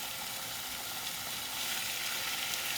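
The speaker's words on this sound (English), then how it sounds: "so I'm just going to fry a few pieces" Food sizzles steadily in bacon grease on a hot grill while hash browns are being made, a continuous bright crackling hiss with no voices over it.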